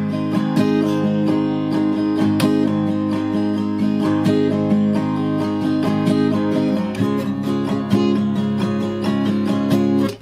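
A guitar strums the chord pattern of a song with accented strokes landing on the backbeat, giving a rhythmic, sustained, close-up sound with no talking.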